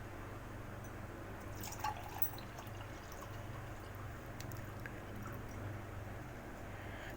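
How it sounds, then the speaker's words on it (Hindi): Sugar-sweetened milk pours into glasses for sharbat, a faint, steady liquid trickle with a few soft drips in a quiet room. "ये मेरे पास 3 गिलास मिल्क है मेरे पास ये, जिसको मैं अब आपको गिलास में डाल के बताती हूँ"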